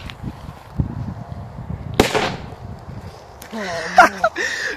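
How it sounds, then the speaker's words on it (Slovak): A firecracker goes off with one sharp, loud bang, followed by a crackling burst of noise, while people talk before and after it outdoors. "A nie, to bola petarda."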